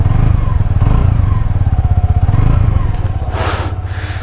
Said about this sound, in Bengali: ইঞ্জিনের সাউন্ডটা দেখতেছেন যে আমার কাছে অনেক স্মুথ মনে হচ্ছে ইঞ্জিনের সাউন্ডটা।